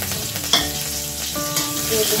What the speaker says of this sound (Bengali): তেল গরম হয়ে গেছে, এখন আমি দিয়ে দেবো এখানে একটা কাঁচা লঙ্কা কুচি।